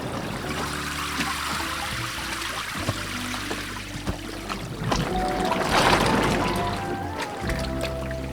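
Water trickles and splashes steadily like a small fountain, with occasional drips and a brief surge of gushing midway, close by and alone.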